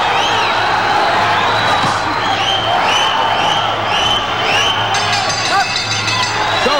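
A roaring boxing arena crowd in Albuquerque, New Mexico, cheers and whoops steadily for Johnny Tapia's fight with Rolando Bohol, a loud continuous wash of voices with a commentator talking over it.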